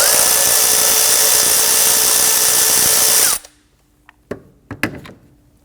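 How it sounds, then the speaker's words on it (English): A power tool whirs loudly and steadily on the 10mm valve cover bolts of a 2017-2020 Hyundai Elantra, then cuts off and is followed by a few sharp, separate clicks of a socket wrench. "There is a series of 10mm bolts. We're going to use our socket, loosen and remove."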